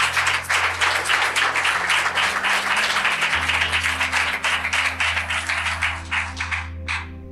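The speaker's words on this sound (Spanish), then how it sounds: "Aplauda fuerte allí." A church congregation applauds loudly and steadily for several seconds, a dense continuous wash of clapping over low sustained instrument tones that fades toward the end.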